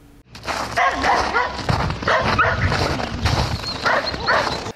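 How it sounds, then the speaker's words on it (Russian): A pack of more than twenty stray dogs barks and yips on a city street, overlapping calls continuing throughout amid outdoor noise. "На кадрах стая собак, более двух десятков особей"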